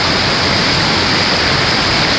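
Loud, constant roar of a turquoise waterfall at Chiquilistla in Jalisco, Mexico, a dense unbroken rush of falling water heard up close with no other sounds.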